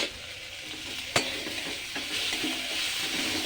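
A paste of cumin, ginger and garlic with turmeric is stir-fried in a pan, giving a steady close sizzle with scraping spatula strokes and one sharp clink.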